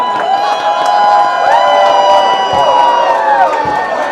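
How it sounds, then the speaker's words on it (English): Crowd cheering, whooping and clapping for Papa lookalike contestants and judges at Sloppy Joe's in Key West during Hemingway Days, a loud, steady roar of voices with shouts throughout. "A big round of applause for all of our Papas, the illustrious judges for this evening's competition"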